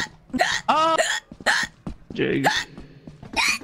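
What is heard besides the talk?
hiccups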